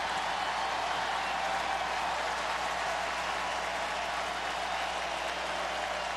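A stadium crowd at a UCF at South Carolina college football game roars and cheers in a loud, unbroken wash of noise with no voice standing out.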